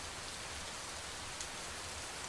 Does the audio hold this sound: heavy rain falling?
yes